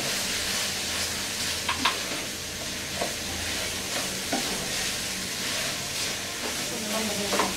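Bottle gourd and hilsa fish head frying in a pan while being stirred to mix in sprinkled spices: a steady close hiss and sizzle with scattered clinks and scrapes of the spoon, no talking.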